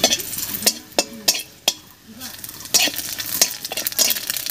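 Dried red chillies and black cumin sputtering in leftover brinjal-frying oil in a village kitchen, with crackling sizzle between sharp metallic clinks and scrapes of a spoon stirring in the pan, close and fairly quiet.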